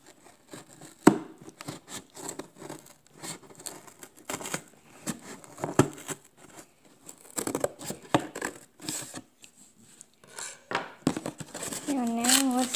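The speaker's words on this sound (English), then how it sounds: "grab my scissors and cut down the middle" Scissors cut down the middle of Playmobil 6671 camper toy packaging, giving irregular close snips, crinkles and tearing rustles, with brief voice sounds near the end.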